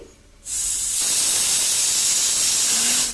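A pressure cooker cooking chicken curry lets out a loud, steady hiss of escaping steam that starts suddenly and keeps going, close by and with no voices.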